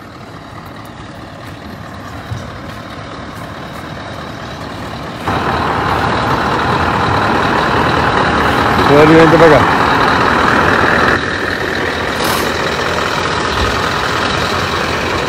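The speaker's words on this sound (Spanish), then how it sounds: "Yo seguro que estos camiones vienen cargaditos de pan." Heavy trucks roll past on a road near a pilgrimage route, a deep engine rumble that swells midway and then eases, while people talk nearby.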